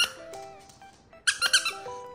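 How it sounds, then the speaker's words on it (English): Porcupine-shaped squeaky dog toy squeaks several times in quick, high-pitched bursts, loud and close, with a faint earlier squeak before a rapid cluster. "Is it a squeaker? It is a squeaker."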